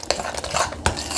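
A utensil stirs eggs into a meat lasagna filling in a bowl, giving a few close, scraping, squelching strokes with sharp clinks at the start and near the end.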